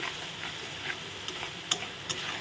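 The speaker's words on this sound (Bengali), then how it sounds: "ঘন ঘন আমাকে নাড়তে হবে এখন" Cashews are stirred often in a frying pan while cooking a vegetarian festival dish, giving a soft steady sizzle with a few light clicks of the utensil against the pan, close, with no talk.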